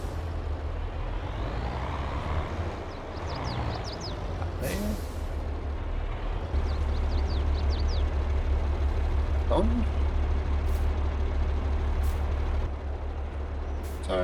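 A truck in Farming Simulator 22 runs with a steady engine drone while sharp air-brake hisses burst out several times, and someone talks over it at intervals.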